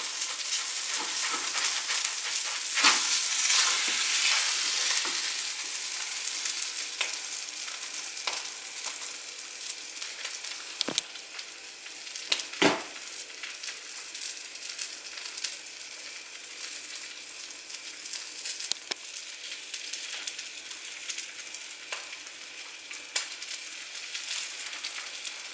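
A burger fries in hot oil in a pan, giving a loud, continuous hiss and crackle that softens slightly partway through, broken by a few sharp pops and taps.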